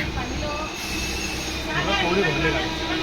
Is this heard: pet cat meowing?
no